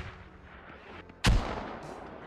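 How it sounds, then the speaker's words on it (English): A single heavy mortar launch booms loudly in the military shooter Squad, a deep thump with a short rumbling tail over steady battlefield ambience. "first mortar just blew up something"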